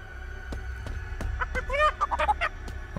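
Several chickens cluck and squawk in quick bursts over a low hum, with a few sharp clicks before them, in the horror video game Chicken Feet.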